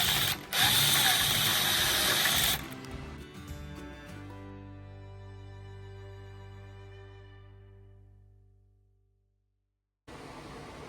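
A power drill bores a hole while mounting Gap PillarZ on a Polaris Slingshot. It gives a loud, harsh whir for about two seconds, then the motor winds down in a long fading hum before starting again at the end.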